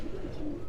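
Breeder pigeons in cages at a loft in Quetta give a soft, low, rolling coo, close and steady through the whole brief moment with no voices over it.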